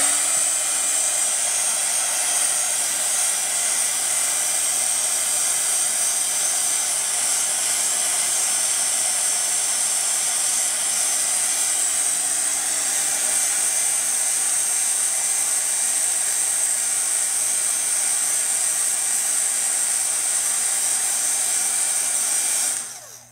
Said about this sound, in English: I'm going to dry this so we can do another layer on.